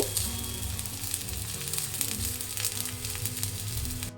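Oats tikka patties sizzle in a pan over a low flame, a steady close frying hiss with small crackles and faint low hum, nobody speaking.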